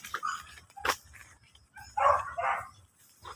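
A beagle stud dog at a breeding session gives a few short barks and yips at close range, bursts spaced through the moment with quiet gaps between them.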